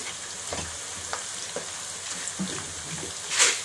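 Spices with turmeric frying in a pan for Nellore-style fish curry, a soft steady sizzle with occasional light clicks of a stirring spoon and a brief louder crackle near the end.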